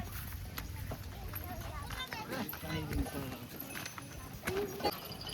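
Horse and camel carts pass by, hooves clip-clopping in an uneven rhythm at moderate distance, mixed with people talking and general outdoor bustle.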